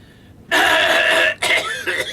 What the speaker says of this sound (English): I had a coughing fit there